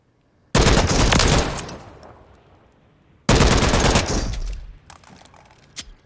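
Two long full-auto bursts from a tactical rifle in Call of Duty Modern Warfare III, loud and close, each followed by a short trailing echo, with a few single shots near the end.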